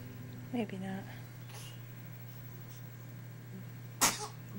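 A single sharp sneeze from a two-month-old baby bursts out near the end, after a stretch of faint voices and quiet background hum.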